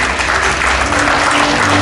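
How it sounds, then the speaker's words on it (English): An audience at a college Teachers Day celebration claps continuously to honor a guest, the applause loud and dense across a hall without pause. "Start with a big round of applause"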